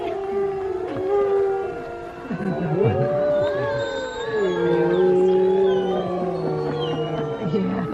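A pack of wolves at a wolf preserve in Columbia, New Jersey howls in layered, wavering tones, some high and squeaky, others low and steady, blending into a continuous chorus nearby.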